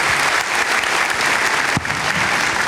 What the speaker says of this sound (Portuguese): vamos ver meu Fabiano aplaudindo o seu Jesus